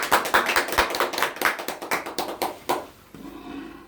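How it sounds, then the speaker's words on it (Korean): Audience applause at a lecture on buckwheat and food, a few people clapping in a loose, sparse rhythm of distinct hand claps that tapers off after about three seconds into quiet room tone. "박수 주세요."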